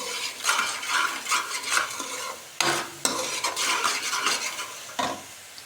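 Potatoes and soybean chunks roasting with salt in a pan for a curry, stirred with a spoon that scrapes and clinks against the metal over a steady sizzle, with a few sharper knocks.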